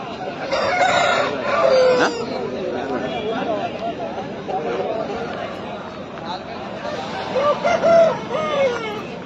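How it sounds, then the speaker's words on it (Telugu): A rooster crows over people talking nearby at a Sunday market in Pileru, with clucking fowl and chatter mixed in around it. "ముదురు పుంజు. ఏ పుంజు?"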